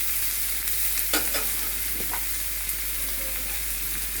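Spice paste fries in a pan for kacchi biryani, a continuous close sizzle broken by several sharp spoon scrapes and stirring knocks around the middle.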